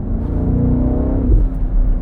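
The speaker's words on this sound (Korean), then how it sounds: "이 배기음이 아쉬운 분들을 위해서 여기 아이코닉 사운드라는 것도 준비가 되어 있습니다. 가상 배기음이에요." A BMW X7 M60i SUV plays its virtual exhaust sound in Iconic Sound mode: a steady, close, low engine drone with a slight rising rumble, heard alone without talk.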